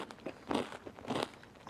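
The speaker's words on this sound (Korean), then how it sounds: "아삭한 소리가 맛있는 소리가 나네요" Crisp crunching as someone bites and chews a firm traditional Korean snack made with nuts, white sesame and black sesame, close and distinct, with about three crackly bites in quick succession.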